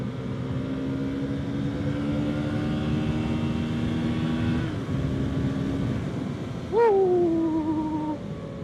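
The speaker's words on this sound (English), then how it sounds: "Listen to that bike sing." Honda CRF450RL dual-sport motorcycle engine droning steadily while riding, a continuous close engine tone that shifts pitch near the end as the rider revs up, with no talking.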